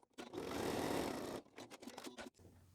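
A sewing machine runs a steady burst of stitching along the slanted bottom seam of a crossbody bag, fairly close, then stops and gives way to a few short clicks and handling noises.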